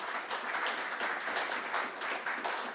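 A press conference audience breaks into a steady round of applause, dense overlapping clapping sustained at even loudness throughout.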